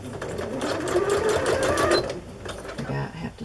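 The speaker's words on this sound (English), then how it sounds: "I have to slow it down with a straight stitch." A sewing machine runs steadily, stitching a straight seam through a rustic handmade journal, with a continuous close-up whir of the motor and needle. It slows toward the end.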